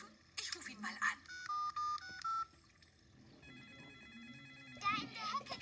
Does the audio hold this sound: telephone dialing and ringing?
yes